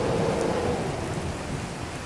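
Steady heavy rain pours down in a thunderstorm, a dense continuous hiss with a low rumbling undertone, used as a story sound effect for a night downpour on a mud-walled hut.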